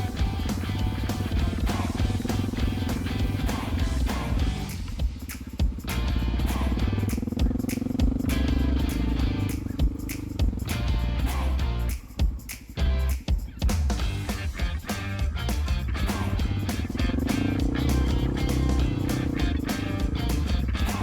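A Honda XR650L single-cylinder motorcycle engine works under throttle on loose ground, its loud, close drone rising and falling as the rider opens and eases the throttle, with wind buffeting and brief clattering throughout.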